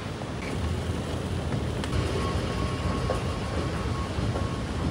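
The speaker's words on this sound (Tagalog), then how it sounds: "So yan to train." A train passing near a budget hotel in Dubai makes a steady, broad rumble and rushing roar that holds even for several seconds. Faint squeals ride on top, and no one speaks.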